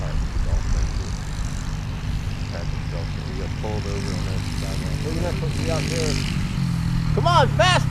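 A 2015 Alan JD motorbike engine runs rough with a loud, uneven low drone that continues throughout, while people talk and call out over it.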